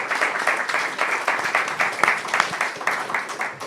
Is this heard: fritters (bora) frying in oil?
no